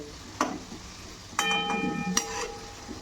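Hand-shaped modaks frying in hot oil, a quiet, steady sizzle broken by a few sharp clinks and a longer ringing tone midway, close by with no talk.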